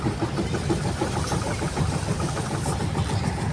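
Steady drone of a trawler boat engine chugging at an even pace during a river trip on the Dunu river, loud and close, running continuously with no pauses and no talk.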